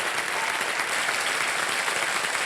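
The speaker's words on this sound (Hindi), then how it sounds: "तालियां बच्चों के लिए।" Studio audience applause for children on the KBC quiz show, dense and steady clapping throughout, loud and close.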